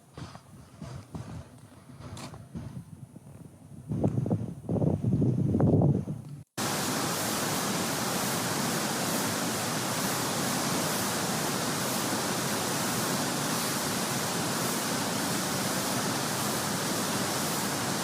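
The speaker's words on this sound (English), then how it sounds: "Camp Runamuck is covered with water. The water has breached the road." Floodwater from Hurricane Helene rushes over a breached road in a loud, steady broadband roar, preceded by a few seconds of quieter, uneven sounds before an abrupt cut into the constant torrent.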